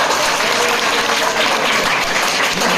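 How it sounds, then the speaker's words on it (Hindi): A classroom audience breaks into applause, a dense, even roar of many hands clapping close and loud, steady from start to finish with no pauses. "इसके लिए इसको ताली बनता है।"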